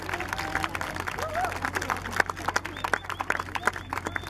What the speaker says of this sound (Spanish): Fuerte voto de aplauso para los niños.